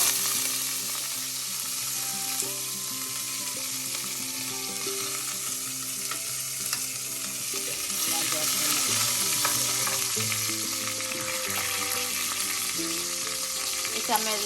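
Two red chillies and curry leaves hit hot oil with already-popped mustard seeds for a cauliflower thoran, a steady close hiss of sizzling that holds evenly, with a faint hum behind it.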